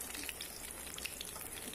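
Masoor dal (red lentil) fritters frying in hot oil, giving a steady, fine crackling sizzle that stays even and close throughout, with no talking over it.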